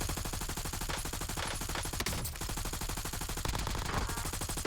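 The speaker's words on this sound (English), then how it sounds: "Now there's some gunfire over there" Rapid bursts of gunfire in a battle royale video game's final circle rattle continuously, dense automatic shots with a brief lull midway, loud and without talk.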